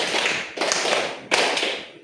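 Two sharp hand claps sound a beat apart, fairly close and moderate in volume, as part of a counting clap game in a classroom lesson.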